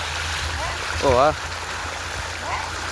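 Water runs steadily through an irrigation channel on a farm in Gujarat, a constant close rushing flow under a brief spoken exclamation.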